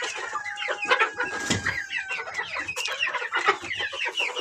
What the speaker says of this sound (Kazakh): мына жақтағы балапандар.